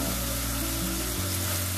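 Grasshoppers frying in hot oil, crisping in a pan as a steady close sizzle with a low cooking hum underneath, no talking.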